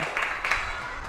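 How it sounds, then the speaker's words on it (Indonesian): Students in a classroom clap together briefly, a dense patter of many hands that swells twice and holds steady for about a second, fairly close with no talking over it. "Oke, beri tepuk tangan untuk semuanya."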